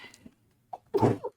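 A single close human sneeze, a brief sharp inhale followed by a loud burst, coming after some quiet breathy sounds.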